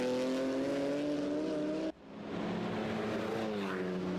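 The Koopman Racing number 235 car in the Supercar Challenge at Circuit Zolder, a loud sustained engine note that cuts off abruptly, then rises again in pitch as the car accelerates away.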